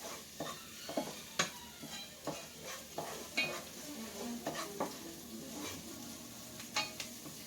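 Tomato sauce for braciole being stirred in a pot, with a soft bubbling sizzle underneath and a steady series of spoon scrapes and knocks against the pot.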